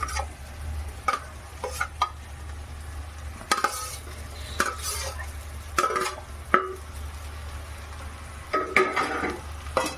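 Dhokla pieces tossed and stirred in a pan, with repeated scraping and clinking of a spoon against metal over a low steady hum, broken by sharper knocks at intervals.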